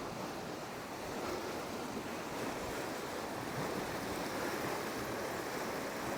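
Water rushing through an opened paddle on a Rochdale Canal lock, draining the chamber: a steady, broad roar of churning water, close and continuous throughout with no break, no talking.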